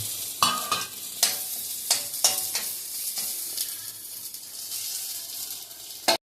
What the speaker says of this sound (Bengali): এই সময় আমি এই কাজু কিশমিশটাও আমি দিয়ে দিলাম।